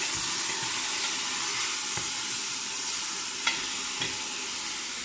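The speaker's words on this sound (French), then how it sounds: "dans ma sauce je vais mettre une poignée de pois chiches trempés la veille" Soaked chickpeas go by the handful into a sauce simmering in a pot while making tlitli with bird-tongue pasta, giving a steady close sizzle and bubbling hiss with a few soft stirring knocks and clinks.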